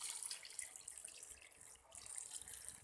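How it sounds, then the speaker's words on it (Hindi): One litre of water pours into a beef roast marinade, a soft, continuous splashing hiss that stays fairly quiet and even throughout, with no voices. "1 लीटर हमने वाटर लिया है और ये हम इसके अंदर ऐड कर देंगे"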